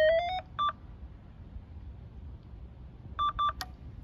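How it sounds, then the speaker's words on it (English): A BRB wireless trap and skeet controller gives short electronic beeps: a quick rising cluster and a single tone at the start, then after a quiet pause a double beep and a final sharp chirp, all clean and close. "we're going to press and hold it until we hear another beep after about 3 seconds here."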